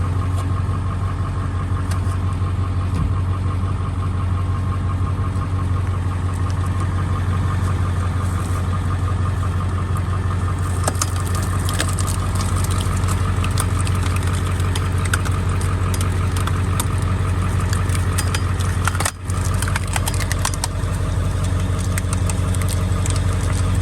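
A restarted truck engine idles with a steady low rumble and a constant hum, loud and close for the full stretch, with faint rattles and clicks on top and no voices.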